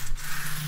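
Short, close scratchy rubbing on a styrofoam wall panel in a flat, an even dry swishing texture lasting under a second, alone without speech.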